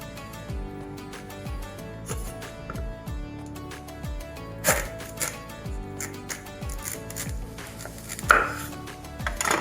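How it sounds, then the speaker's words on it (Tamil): A knife chopping through watermelon for juice, with a long series of regular, fairly soft thuds on a board, some crisp crackly cuts and a few louder strikes near the end, close by, with no voices. "வாட்டர்மெலனை கட் பண்ண போகிறோம்"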